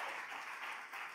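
A church congregation applauds together, a soft, dense wash of many hands clapping at a distance, steady and fairly faint.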